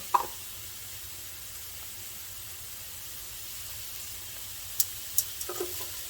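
One large onion meets hot fat in a soup pot for sausage lentil soup, giving a faint, steady sizzle with a few small clicks and pops scattered through.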